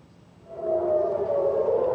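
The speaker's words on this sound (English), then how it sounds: "siren sounds and rocket interceptions witnessed in Tel Aviv" An air raid siren in Tel Aviv during a rocket attack rises out of low background noise and holds a steady wailing tone, moderately loud and somewhat distant, with no voices.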